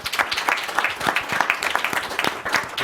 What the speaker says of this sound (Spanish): Un aplauso para nuestros panelistas